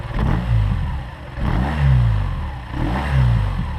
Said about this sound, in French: à chaque fois que tu donnes un coup de gaz